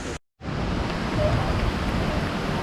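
Heavy rain pours steadily at Animal Kingdom theme park in Florida near the Tree of Life, a dense, even hiss that cuts out for a split second, then returns loud and unbroken.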